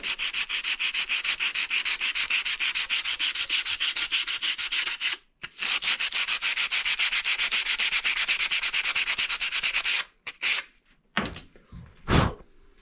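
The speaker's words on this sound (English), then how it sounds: "That one could probably use a little bit of sanding across the top." Sandpaper rubs back and forth across the top of an arrow being converted from a compound arrow to a traditional one, a rapid steady scraping rhythm close up, pausing briefly, then ending with a few scattered knocks and handling sounds.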